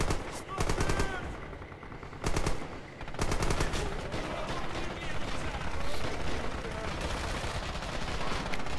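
A DP-28 machine gun fires in long, rapid automatic bursts in Red Orchestra 2, loud and dense, with other gunfire and battle noise layered around it.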